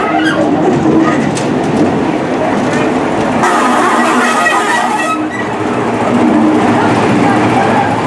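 A Class 14 diesel hydraulic locomotive running up to shunt Pullman cars at Tenterden Town Station on a heritage railway, a loud steady engine rumble with wheel clatter and a brief hissing burst midway, a voice talking over it.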